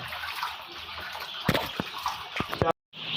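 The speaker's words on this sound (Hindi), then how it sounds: "ये आधा आधा पानी उन केनों में डाल के रख लेना है" Water poured into small cans used as drinkers for chicks, a splashing, trickling pour with a few sharp clinks and bumps, briefly cut off near the end.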